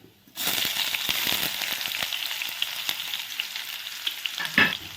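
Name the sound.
onions frying in pan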